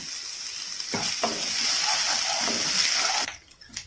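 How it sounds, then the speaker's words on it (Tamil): Chopped onion and curry leaves frying in a pan, a steady broad sizzle running close and loud for about three seconds before dropping away to quieter scraping at the end. "இதையும் நல்லா ஃப்ரை பண்ணி விடுங்க, கலர் நல்லா சேஞ்ச் ஆகட்டும்."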